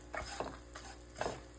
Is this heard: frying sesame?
yes